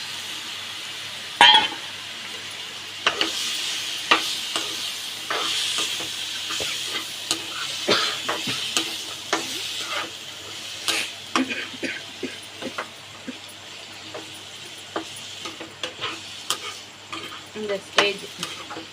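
Turmeric-and-salt-coated chicken sizzling in a hot pan while a spoon scrapes and stirs it repeatedly, with scattered clinks and crackles throughout.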